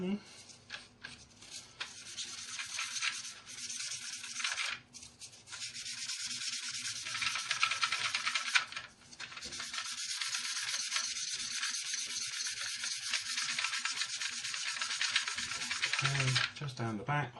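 Continuous close-up sanding of the plastic parts of a 1/32 scale Trumpeter Corsair model kit, with steady back-and-forth rasping strokes broken by a few short pauses.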